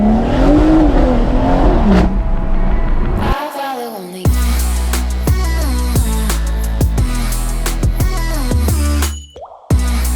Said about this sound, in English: a POV drive in my M140i with the new exhaust system